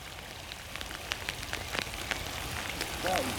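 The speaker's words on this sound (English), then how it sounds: "It's peeing down in rain." Heavy rain pours down at a lakeside fishing spot, a steady, fairly soft hiss scattered with sharper drop impacts, unbroken from start to finish.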